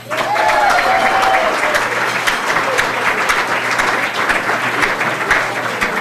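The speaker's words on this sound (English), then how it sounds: "Thank you all for those for that kind applause" An audience at a chamber of commerce awards evening applauds steadily, a full, continuous wash of many hands clapping, loud and close, with a brief voice heard near the start.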